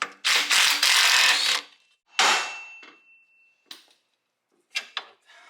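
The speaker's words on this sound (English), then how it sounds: "now we can remove the outer tie rod in using a 18mm socket" Ratchet driving an 18mm socket to remove the outer tie rod on a C5/C6 Corvette, heard as bursts of rapid clicking with pauses between, then short metallic clinks and a final quick ratcheting run, close and loud.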